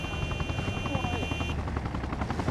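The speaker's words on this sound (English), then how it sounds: "Oh, I hear a helicopter." A helicopter passes overhead in Arma Reforger, its rotor thumping in a fast steady pulse over a loud engine roar, continuous throughout, with a brief thin whine fading out partway.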